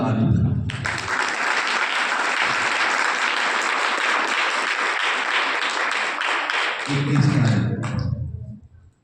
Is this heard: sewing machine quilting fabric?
no